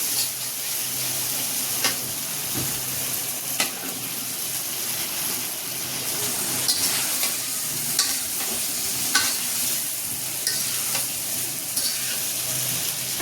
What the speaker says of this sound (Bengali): ভালো করে মশলার সাথে আলুগুলো মিশিয়ে নেব আর কিছুক্ষণ কষিয়ে নেব।